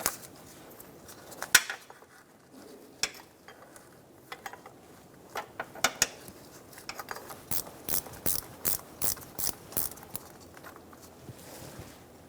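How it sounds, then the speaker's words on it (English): A 19mm wrench working loose the vehicle speed sensor on a 2014-2018 Chevrolet Silverado 1500, heard as scattered metallic clicks and then a quick regular series of ratcheting ticks, fairly quiet and close. "Using a 19mm wrench, we're going to remove the vehicle speed sensor."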